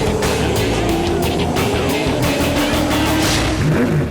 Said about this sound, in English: for the final time in 2010, the Fujitsu V8 Supercars are on the track